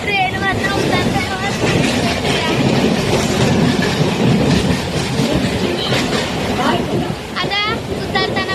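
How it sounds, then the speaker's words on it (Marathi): Passenger train running on rails during a family outing, steady loud rumble and clickety-clack of wheels throughout, with brief wheel squeals near the end and voices talking faintly over it. "तर आता आम्ही सगळं ट्रेनवरनं उतरतो."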